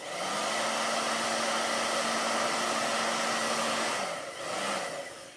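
Close and steady, a hair dryer runs over chalk paste on a stencil, its even whoosh dipping briefly near the end before resuming.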